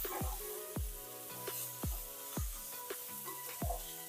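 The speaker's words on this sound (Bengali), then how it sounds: "এবার ক্যাপসিকামটাকে আরও একটু ভেজে নেব।" Capsicum and onion fry on a high gas flame in a pan for a chicken roll filling, with a steady low sizzle broken by a regular series of sharp stirring knocks about every half second.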